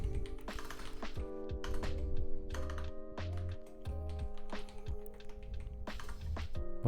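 Typing on a computer keyboard in bursts of quick, light clicks and taps, close and fairly quiet, with a steady tonal hum underneath.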